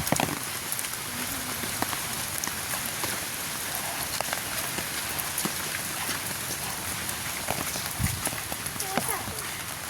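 Steady rain falls around a fort on the Kasaragod–Kannur coast, a dense, even hiss of drops on surfaces throughout, with faint talk and a few brief knocks mixed in.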